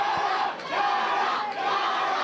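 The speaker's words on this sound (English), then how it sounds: "And the crowd, the chant, they rise to both teams." A crowd at a 1988 Cavan Senior Football Championship final Gaelic football match, Gowna against Laragh United, chants loudly in rising, swelling waves that dip briefly and surge again, filling the whole scene.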